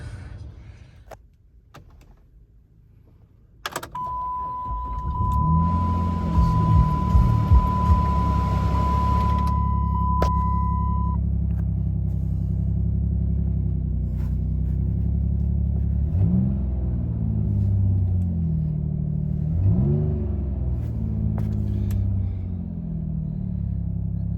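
An old, rusty Dodge Charger engine fires up after a few faint knocks and a brief electronic tone, then settles into a loud, deep rumble with a couple of revs rising and falling near the end.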